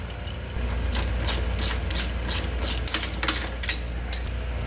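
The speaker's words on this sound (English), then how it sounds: "So we're going to loosen this bolt right here." A hand ratchet clicks in rapid bursts, close and loud, while loosening a bolt on a Zamboni ice resurfacer's conditioner, over a steady low mechanical hum.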